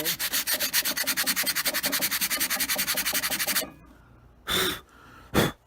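Light sanding of dried wood putty during a trash-find furniture makeover: about three and a half seconds of quick, even back-and-forth rasping strokes up close, then two short separate rubs after a pause.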